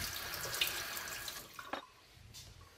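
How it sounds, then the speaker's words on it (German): Water runs over a hot silver teapot fresh from annealing at a silversmith's workbench, a steady splashing hiss that cuts off and trails into faint drips. "Nach dem Glühen kommt die kalte Dusche. Das Metall wird runtergekühlt."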